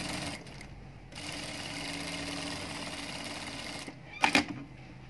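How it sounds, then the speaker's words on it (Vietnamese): A sewing machine stitches an ao dai seam in a steady, rapid mechanical whir that pauses briefly, then runs again, ending with a few louder clicks and clunks, close by. "Tiếp tục may đường dằng."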